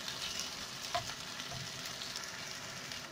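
Onions for Moroccan tfaya fry in a pan with a soft, steady sizzle and faint crackles, quiet and close, with no talking.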